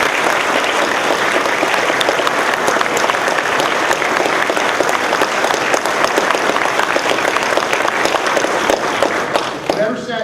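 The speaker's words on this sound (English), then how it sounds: "I wanted to give him a round of applause." A crowd at a bill-signing speech in a high school applauds: sustained, dense, loud clapping for about ten seconds before tapering off at the end.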